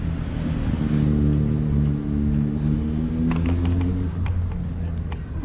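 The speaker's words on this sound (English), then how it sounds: "The Kawasaki ZX10, the old one." An older Kawasaki ZX10 motorcycle engine runs with a steady low droning rumble that rises and holds, heard close and loud outdoors, with a few sharper clicks and knocks near the end.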